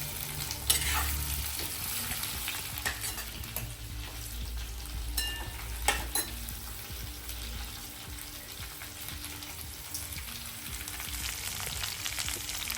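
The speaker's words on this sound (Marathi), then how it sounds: "मस्त छान हे बघा पूर्ण फ्राय करून घ्यायची तेलामध्ये" Stuffed okra (bharli bhindi) sizzles steadily in hot oil, with occasional scrapes and clinks of stirring across a continuous crackling hiss, close and moderately loud, no voices.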